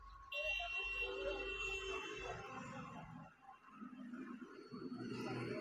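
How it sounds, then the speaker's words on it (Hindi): Steady electronic beep from a continuity tester checking the yellow-grey wiring on a Splendor BS6 motorcycle, a sustained tone running for several seconds over low background noise and clunks. "तो इसके अंदर भी बीप क्लियर सुनाई दे रहा है।"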